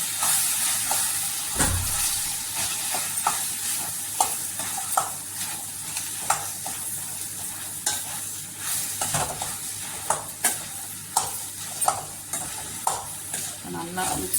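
Mashed potato masala for poori being stirred in a pan, a spoon repeatedly knocking and scraping against the metal over a continuous sizzle and hiss, close and steady with no talking.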